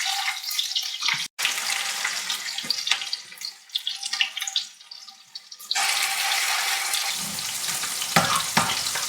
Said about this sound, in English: So I put the oil in this pan too, so they're burning a little bit